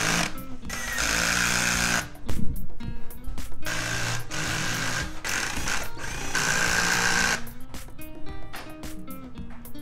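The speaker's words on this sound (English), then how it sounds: "And you can go ahead and drill all the screws in place." A cordless power drill driving screws into a laundry hamper frame, in several loud whirring bursts separated by short pauses, close and alone without talk.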